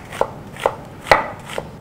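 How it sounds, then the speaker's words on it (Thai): A knife slices cabbage, carrot and onion on a cutting board for a som tam-style slaw, four crisp, separate chops spaced about half a second apart, close and clear with no talking. "ซอยกะหล่ำปลีเป็นเส้นบาง ๆ"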